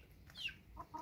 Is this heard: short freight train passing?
no